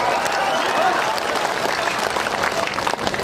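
Dense, steady crowd applause at a Congress political rally speech in Kishanganj, loud and continuous with no pauses throughout.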